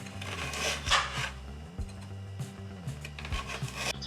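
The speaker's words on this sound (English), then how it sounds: "I'm just gonna cut some slices that are just a couple of millimeters" A knife slices a carrot into thin rounds a couple of millimetres thick on a cutting board. The strokes make faint, repeated scraping and rubbing sounds over a steady background tone.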